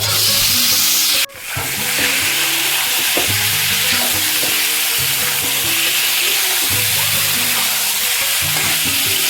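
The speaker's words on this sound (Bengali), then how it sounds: "এটাকে লাল করে ভাজবো" Chicken pieces frying in a pan, a loud close hissing sizzle that breaks off briefly, then resumes steadily with intermittent stirring clatter.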